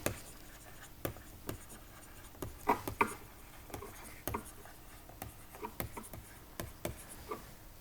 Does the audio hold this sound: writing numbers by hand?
yes